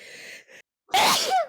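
A single sharp sneeze bursts out close and loud after a brief breathy intake and a moment of silence.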